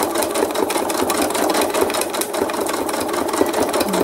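A sewing machine stitching thread art over a photo image, running as a loud, close, continuous rapid whir of needle strokes that holds steady throughout without talk.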